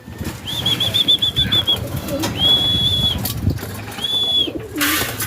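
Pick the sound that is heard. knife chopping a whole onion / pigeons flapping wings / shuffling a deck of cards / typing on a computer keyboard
pigeons flapping wings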